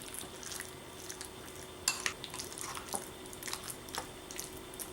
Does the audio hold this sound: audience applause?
no